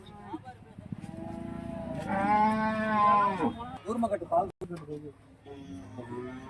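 Cattle at the Karimangalam market in Dharmapuri, including a dairy cow with her calf, call out with a few drawn-out moos over a busy crowd, with people talking nearby throughout.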